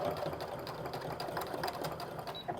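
A sewing machine runs steadily, stitching through the layers of a crossbody bag toward the edge with rapid, even needle clatter, close and continuous.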